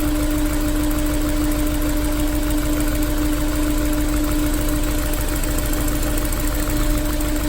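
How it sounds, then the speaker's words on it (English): Honda S2000 engine idling roughly with one fuel injector unplugged, a steady loud drone with an uneven, stumbling pulse running continuously and close by. "It really stumbles with that one unplugged"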